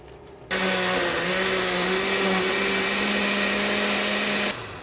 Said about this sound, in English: we're gonna go ahead and dump all our peppers into the blender here and get her all blended up